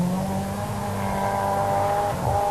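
Audi Coupe Quattro rally car, number 5, racing on a special stage of the 1987 South Swedish Rally, its engine holding a steady loud roar close by with a brief dip and surge near the end.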